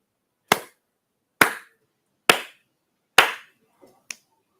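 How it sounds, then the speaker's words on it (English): Sharp hand claps and finger snaps in a classroom demonstration, counting out a number: four loud, evenly spaced claps followed by two lighter snaps, close and alone in an otherwise quiet room. "So I'm going to clap and snap a number."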